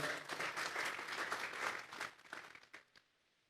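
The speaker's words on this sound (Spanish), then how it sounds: "Vamos a darle esa ofrenda de palmas a Dios en esta hora." A church congregation applauds as an offering of praise to God, a dense burst of clapping that holds steady for a couple of seconds and then fades out to quiet.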